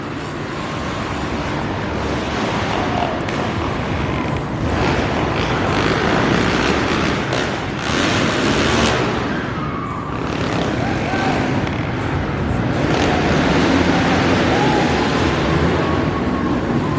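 Arenacross 450 C class motocross bikes racing in a last chance qualifier, the engines a dense continuous roar that rises and falls as the pack moves around the indoor track, with an announcer's voice running over it.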